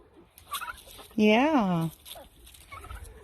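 A turkey tom lets out one loud, close rattling gobble lasting under a second amid quieter yard noise, with a person briefly speaking nearby.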